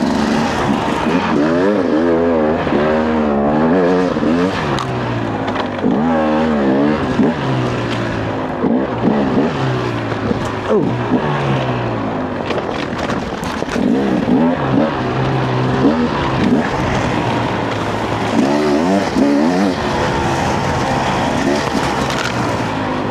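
An old Beta dirt bike engine screams and revs continuously while being ridden on a trail, loud and close, the pitch rising and falling through repeated throttle blips and gear changes, with no talking over it.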